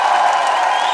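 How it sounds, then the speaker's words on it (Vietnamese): Warm applause and cheering from a studio crowd on the Rap Việt stage for Binzy's team, a steady dense wash of clapping lasting about a second. "Và một tràng pháo tay nồng nhiệt cho Binzy,"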